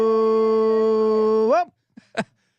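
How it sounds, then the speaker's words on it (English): A dog in a broadcast studio gives one long, loud, sustained howl that rises in pitch at the end, followed by a couple of short yips and whimpers nearby. "Shout out to my dog who's in studio, who starts howling when you do that."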